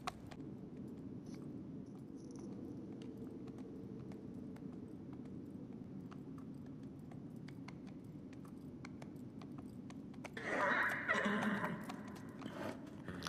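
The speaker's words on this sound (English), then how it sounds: "The horse want to go back." A horse in Shadow of the Colossus gives a single whinny late on, rising briefly above a low, steady ambient rumble with faint ticks and rustles; no talking.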